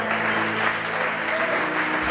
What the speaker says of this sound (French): Que tes applaudissements te mettent en communion avec le Saint-Esprit maintenant au nom de Jésus.